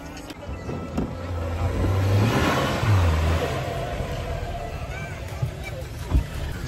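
A vehicle engine revs while pushing through water, with splashing and a rising engine roar, as people's voices murmur in the background.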